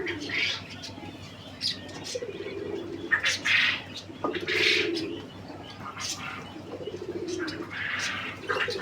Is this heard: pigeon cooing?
yes